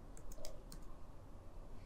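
A short burst of typing on a computer keyboard, a handful of quick key taps close together early on, then quieter over a faint room hum, with nobody speaking.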